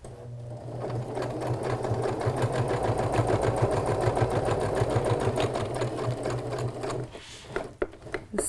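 A sewing machine stitches fabric for a pillow in a rapid, steady mechanical run of needle strokes, close and continuous for about seven seconds, then stops with a few scattered clicks.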